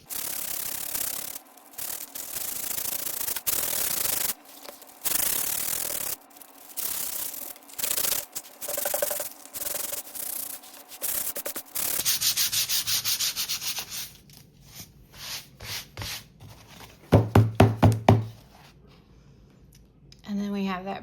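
Sandpaper rubs back and forth on the edges of a linen journal cover to distress it, in loud rhythmic strokes over the first half, then quieter handling and a short burst of scraping near the end.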